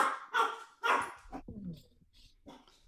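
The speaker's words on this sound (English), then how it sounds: "My dog is very talkative." A small dog barks and yips indoors during a live-streamed talk, a few sharp close barks with whiny vocal sounds in between, and a person speaking around them.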